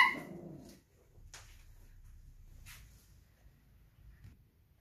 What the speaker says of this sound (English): Just had to pause that video for a minute while my dogs barked.